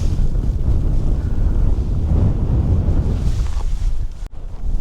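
Strong wind in a remote Utah canyon buffets the microphone in a loud, continuous roaring rumble that barely eases before dipping sharply near the end.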